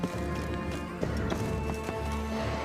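Hooves clip-clop in a steady galloping rhythm as a horse runs in The Witcher 3 video game, heard fairly close over a constant background hum, with no talking.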